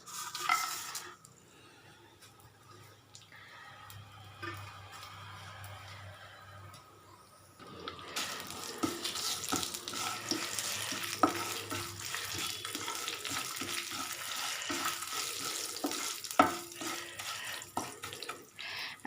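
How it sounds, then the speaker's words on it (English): Spice masala hits a little oil in a pan, bursting into a loud, continuous sizzle after a quieter stretch of faint clatter, with scraping and stirring scattered through. "here in a pan I have kept I have taken very little oil. So I'm going to put all these masalas."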